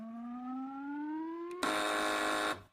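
On a TV panel quiz show, a rising electronic tone slides upward, then a loud harsh buzzer blares for about a second before cutting off.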